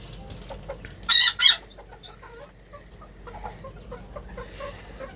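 A rooster gives two short loud calls near the start, followed by softer clucking and scattered hen noises over quiet farmyard background.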